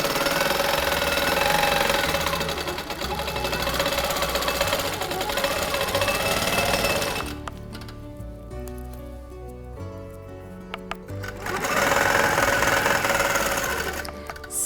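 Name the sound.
sewing machine stitching quilt circle around a template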